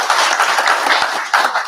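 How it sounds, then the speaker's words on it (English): Audience at a customer appreciation seminar day giving a round of applause, a dense, lively burst of many hands clapping close and loud for the whole moment. "Guys, a round of applause for our Muskie."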